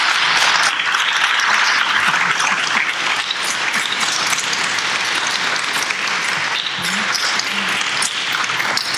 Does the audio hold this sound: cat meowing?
no